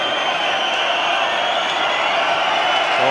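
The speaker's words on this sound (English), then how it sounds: "plenty of noise being created from the Camelon fans, cheering their team on to victory" Camelon supporters at a Scottish Cup football final create a dense, steady roar of crowd cheering that fills the whole stretch, loud and unbroken.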